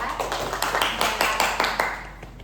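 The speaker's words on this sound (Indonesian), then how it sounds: "kita beri tepuk tangan untuk kelompok NDK" Classroom applause for a student group after a presentation in a micro-teaching statistics lesson, a burst of steady hand claps at moderate distance filling the room for a couple of seconds.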